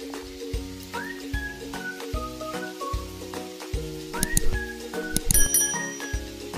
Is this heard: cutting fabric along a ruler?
no